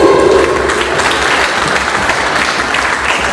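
Loud, continuous clapping fills a hall as an audience applauds a couple at a Hindi entertainment event, dense and even, with a brief voice at the start.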